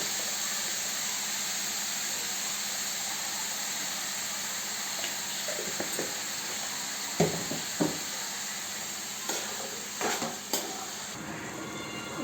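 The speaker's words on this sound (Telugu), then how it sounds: "ఇంకా సొరకాయ ముక్కలు ఇట్లా కలుపుకోవాలి ఇందులో కొద్దిగా పసుపు" Bottle gourd pieces with turmeric are stirred in a pan over a constant steady hiss, with a handful of scraping and knocking spoon strokes in the second half, close and fairly quiet.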